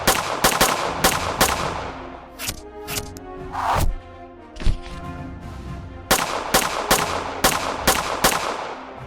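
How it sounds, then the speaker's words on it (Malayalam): Loud gunshots crack repeatedly in an exchange of fire, with bursts clustered at the start and end and a tonal, music-like stretch between them. "വെടിവയ്പ് വളരെ നേരം തുടരുന്നു"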